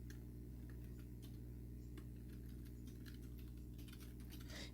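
Password being typed on a computer keyboard while setting up a Crunchyroll account, quiet scattered key taps over a steady low hum, with a short denser burst of keystrokes near the end.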